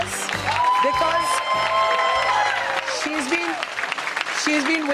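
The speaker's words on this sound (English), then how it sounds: "Let's give her a big applause," An audience applauds to welcome Sudha Murthy onto the stage, a dense, steady wash of clapping with some cheering, while a voice keeps talking over it.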